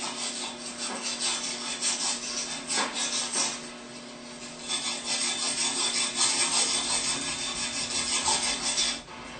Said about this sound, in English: use a piece of sandpaper to clean up the copper slip